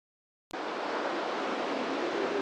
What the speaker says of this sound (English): There's a bit of a creek here that runs up past the camp.